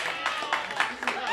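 Audience members clap to vote for Felicity Feline during a game-show showdown. The clapping is faint and sparse, with a few distinct claps landing in a loose rhythm.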